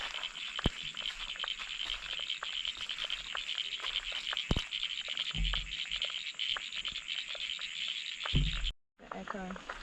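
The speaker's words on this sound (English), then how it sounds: "I reckon that's frogs." Frogs in the bush at Girraween National Park give a dense, steady chorus of bubbly croaks, heard quietly from a distance, with occasional clicks and soft murmured voices.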